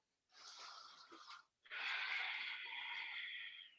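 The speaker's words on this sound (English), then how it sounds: "As you inhale, straighten the right leg, twist and lift the right arm. 3 deep breaths." Deep, forceful breaths during a seated yoga twist, a short airy inhale followed by a long, steady rushing exhale, close and fairly loud with no talking.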